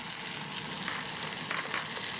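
Cauliflower frying in hot oil in a pan gives a steady, close, even sizzle with faint crackles and occasional stirring, and no voices.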